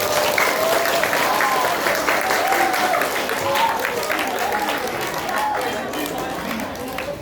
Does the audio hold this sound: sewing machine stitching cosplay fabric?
no